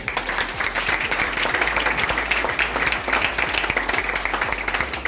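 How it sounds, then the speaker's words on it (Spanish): Steady, dense applause from an audience at an academic excellence award ceremony, loud and sustained without a break, a continuous wash of many hands clapping. "Un aplauso, por favor."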